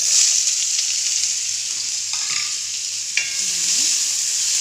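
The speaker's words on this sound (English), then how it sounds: "Then the onions goes in." Onions fry in a pan with a red chili and a bay leaf, giving a loud, steady close sizzle broken by a couple of brief stirring scrapes.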